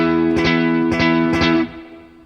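Distorted electric guitar through side 1 of a Chase Bliss Brothers AM pedal with the gain at 12, three strummed chords ringing thick and sustained, then cut off, leaving a short fading tail.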